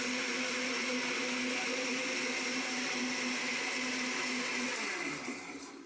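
A blender mixing vegan mayonnaise as oil is added runs at a steady high whir, loud and close, continuing without pause before easing slightly at the end.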